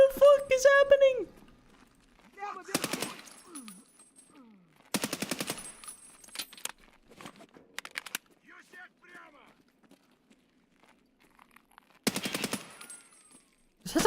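Gunfire in Escape from Tarkov PvE comes in several sharp, rapid automatic bursts, loud and close, separated by quieter gaps where a voice talks over the game audio.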